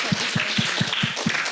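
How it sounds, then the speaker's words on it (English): An audience at a documentary screening at the Wakati Wetu Festival claps together: brisk, even, close-up hand claps in a steady rhythm, with no talking. "Let's clap for each other."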